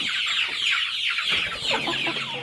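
Free-range kampung joper chickens cluck and call repeatedly, close by and clearly, with several birds overlapping in a busy farmyard chorus.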